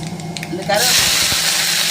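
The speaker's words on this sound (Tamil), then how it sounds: "கருவேப்பிலை போடும்போது தான் தெரிக்குது, எண்ணெய் ஃபுல்லாக தெரிக்குது" Curry leaves dropped into hot oil in a pan while making a whole-tomato tamarind curry burst into a sudden loud, steady crackling hiss that carries on to the end.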